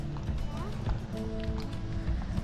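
Pony hooves walking on an arena track during a riding lesson, a soft steady clip-clop under ongoing ambient noise, with people talking nearby.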